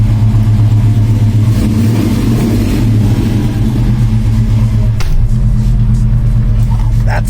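A 600hp Chevelle SS engine runs loud and close with a deep, throbbing rumble that holds steady throughout, with slight swells in intensity.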